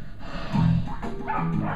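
A territorial dog guarding its fenced yard gives a couple of low, angry warning barks, close and fairly loud, with a short gap between them.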